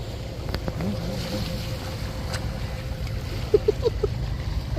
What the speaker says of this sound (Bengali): ওরে ঢেউ